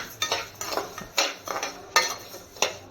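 Spoon scraping and clinking in a pan as puttu flour is stirred and roasted, a quick irregular series of close metallic strokes with no voices.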